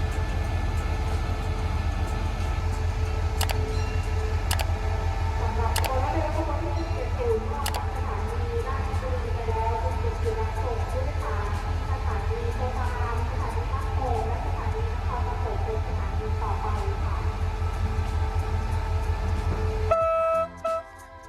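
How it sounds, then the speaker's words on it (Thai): Rapid train No. 170 rumbles steadily nearby as it departs a Thai railway station, with a continuous low drone and a few sharp horn toots early on, before the noise cuts off abruptly near the end. "เตรียมเคลื่อนขบวนออกแล้วนะครับ กับขบวนรถเร็วที่ 170"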